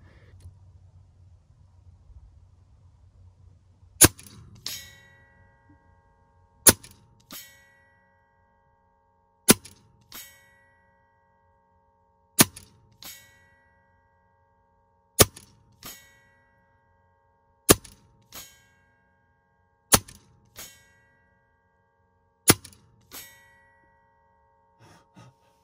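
Edgun airgun with a .30 caliber barrel firing a magazine of shots outdoors, about nine sharp cracks spaced a few seconds apart, each followed by a distinct metallic ring of a target hit, otherwise quiet.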